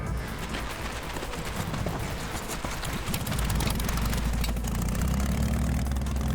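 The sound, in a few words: Russian Ural motorcycle engine idling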